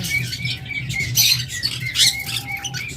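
Lovebirds, including blue opaline and blue Fischer's lovebirds, squawk in a pet bird shop, with sharp, repeated chirps and squawks over a steady low hum of background noise.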